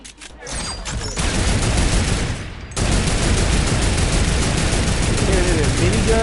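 Rapid, dense automatic gunfire from turrets and miniguns in the video game Fortnite, during the Loot Lake event. It sounds like a loud, continuous roar of shots that dips briefly and then resumes at full force.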